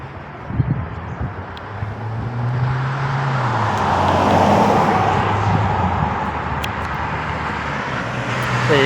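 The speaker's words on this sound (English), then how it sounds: "there goes one of the buses" A bus drives along Goodwood Road in Adelaide, its engine rumble swelling to a broad roar around the middle and easing off, with steady traffic and wind noise behind and no one talking.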